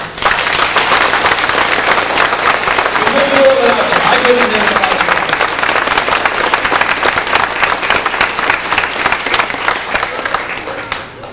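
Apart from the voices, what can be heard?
audience applause at fiddle contest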